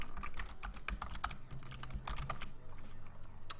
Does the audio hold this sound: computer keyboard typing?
yes